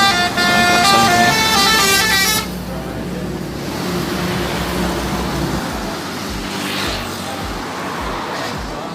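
A loud, sustained intercity bus horn blares for about two seconds on the Palas–Pekanbaru road, then gives way to idling engine rumble and traffic noise.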